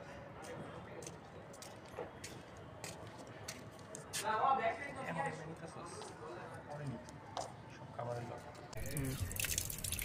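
Raw chicken is washed in water for rooftop cooking, with splashing, dripping and handling noises close by under steady talk.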